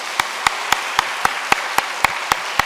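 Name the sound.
congregation applause in church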